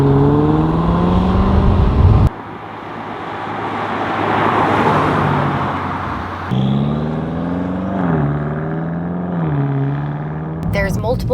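A BMW M5 Competition with four-wheel drive cruises along country back roads in Wicklow, a loud steady engine and road drone with tones that rise and fall through gear changes.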